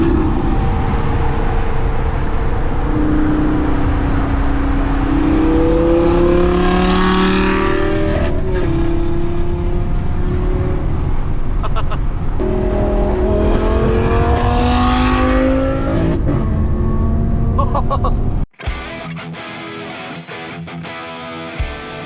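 A 2021 Honda CRF 250 motorcycle engine roars loud and close, rising and falling in pitch through gear changes for about eighteen seconds before cutting off abruptly.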